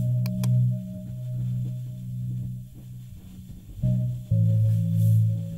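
A synth bass from FL Studio's Autogun plugin using the Broken Chorus preset plays sustained low notes, changing pitch a few times, loud and alone with no voice.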